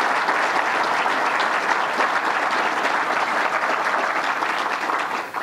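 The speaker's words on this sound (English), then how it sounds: "let's give them a round of applause for their great work" A large audience applauds loudly and steadily at an official government event with the governor, sustained dense clapping filling the whole stretch with no talk over it.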